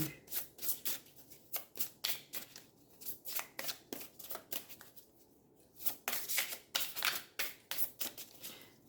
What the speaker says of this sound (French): vu qu'il y en a deux collés, je continue à brasser